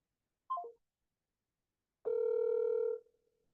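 A telephone dials another number, giving a short warbling keypad tone, then after a pause a steady ringing tone lasting about a second, clear and isolated against silence.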